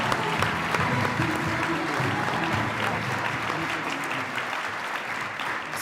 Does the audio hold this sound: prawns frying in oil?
no